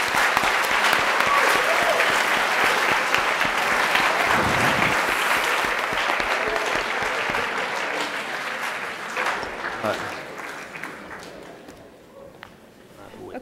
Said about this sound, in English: Let's give our counsel a round of applause